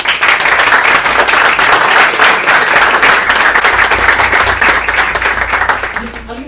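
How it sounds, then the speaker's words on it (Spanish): Steady applause from an audience at a JavaScript meetup talk, dense clapping that holds loud for several seconds before thinning out at the end. "vamos primero a darle un aplauso"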